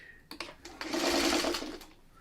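A sewing machine stitches quilt pieces for a mini quilt, starting with a few clicks and then running in a steady whirring burst for about a second before slowing, close and fairly quiet.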